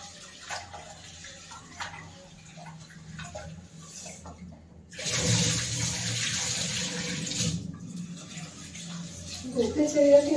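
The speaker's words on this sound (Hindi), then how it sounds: "तो धो लेते हैं यहाँ पे चावल को।" Rice being washed under a running kitchen tap, with a steady hiss of water that grows louder partway through and a brief clatter near the end, with someone talking over it.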